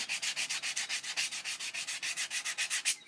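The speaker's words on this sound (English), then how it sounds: "This is going to need a lot more sanding in a couple of areas." Wood turning being sanded with 150 grit sandpaper on a lathe, a rapid regular rubbing hiss pulsing about seven times a second, close and steady for a few seconds, no voices.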